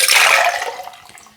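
Bloody Mary cocktail liquid being mixed, a loud close burst of sloshing, splashing liquid that fades out over about a second, with no talk.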